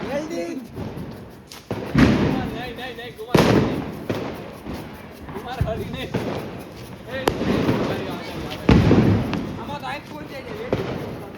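Repeated Diwali firecracker bursts crackle and thump close by in an irregular string, with people talking and shouting throughout.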